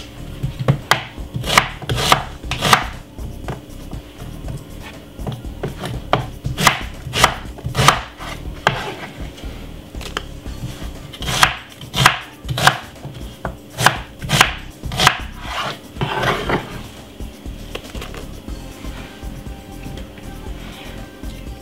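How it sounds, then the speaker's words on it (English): A knife finely chops a white onion on a board, sharp rhythmic knocks in quick bursts with short pauses, loud and close. "One white onion, finely cut up."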